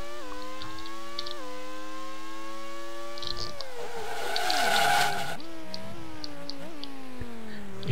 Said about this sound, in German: Ich hoffe, ihr hört immer dieses Quietschen und dann setzt das Auto mit dem Heck immer so leicht nach links weg.